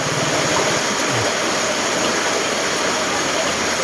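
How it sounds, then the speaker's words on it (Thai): Continuous broadband rush of water flowing steadily near a roadside shop in a mountain village, loud and unbroken throughout with no clear voices. "อันนี้น้ำไหลตลอดเลย ทั้งสามฤดู"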